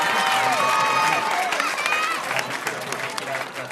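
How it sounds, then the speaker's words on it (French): A racecourse crowd massed in the stands at the Pompadour Grand Cross applauds and cheers as the horses pass, a loud, dense roar of clapping and shouts that holds steady, then eases slightly toward the end. "formidables encouragements de la part de la foule de Pompadour, massée dans ces tribunes"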